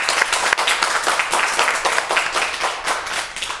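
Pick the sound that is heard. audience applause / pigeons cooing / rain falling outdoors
audience applause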